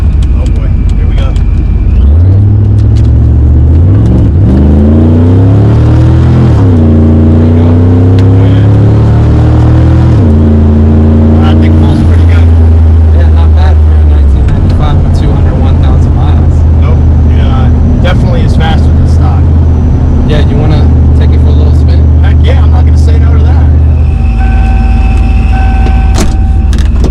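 First-generation Ford SVT Lightning pickup with a Vortech supercharger and 200,000 miles, accelerating hard with a loud engine climbing through the gears, the supercharger whine rising with each pull, then settling to a steady drone.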